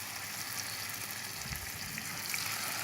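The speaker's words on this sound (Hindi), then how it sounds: "ये समोसे फ्राई हो रहे हैं" Samosas frying over low heat in hot oil, a steady broadband sizzle and bubbling that holds evenly throughout without any speech.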